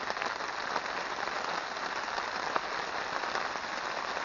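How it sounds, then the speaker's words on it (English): Steady, dense rain hiss with fine patter from a heavy shower at a reservoir in Suffolk, constant and fairly loud throughout, no voices. "I keep getting little bursts of heavy showers."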